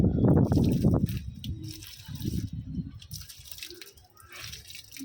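A cup of water pours and splashes into a large plant pot for about a second, then a few softer trickles and drips follow in a quiet space.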